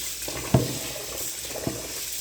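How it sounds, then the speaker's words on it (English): Water splashes into a pot of rice being rinsed of starch, with a few soft close sloshes and trickles at a low level. "you want to, again, pour off that starch water"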